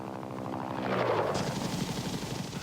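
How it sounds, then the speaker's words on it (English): A UH-1 Huey infantry transport helicopter thumps with rapid rotor beats and engine whine. The sound is close and loud, swelling as the aircraft passes, with no speech. "the basic infantry transport helicopter was the UH-1 Huey"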